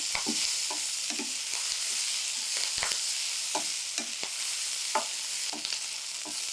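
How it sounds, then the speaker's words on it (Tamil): Curry leaves sautéed in a hot pan, a continuous sizzle with repeated spatula scrapes and light taps at an irregular pace, close and clear with no talk. "கருவேப்பிலுடைய பச்சை வாடை கொஞ்சம் நீங்கிற மாதிரி நம்ம வதக்கினா போதுமானது"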